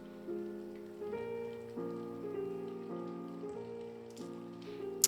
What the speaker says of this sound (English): How long has it been raining?